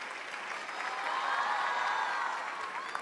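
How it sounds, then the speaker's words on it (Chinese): Audience applause at a televised talent show during a balancing act, a moderate swell of clapping that builds in the middle and tapers off, somewhat distant. "哇，掌声不停"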